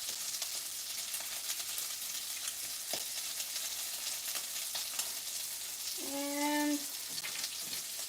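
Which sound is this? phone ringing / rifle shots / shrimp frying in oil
shrimp frying in oil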